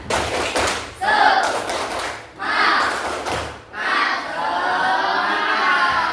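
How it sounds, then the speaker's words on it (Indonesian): In an Islamic religious education teacher-training session, a group performs the rhythmic 'tepuk semangat' spirit clap. Three loud bursts of patterned clapping mingle with shouted voices, with brief pauses between them. "Kita tepuk semangat dulu."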